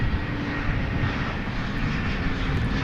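Steady, fairly close jet roar from an American Airlines Airbus A321 airliner at DFW Airport at night, a constant rumble with no voices.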